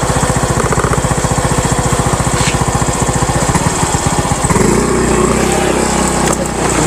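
A small motorcycle engine chugs in a fast, steady putter while climbing a hill, then revs up into a louder, smoother drone near the end, close and prominent.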